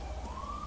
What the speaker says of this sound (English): I apologize if you can hear that siren